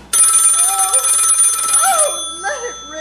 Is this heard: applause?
no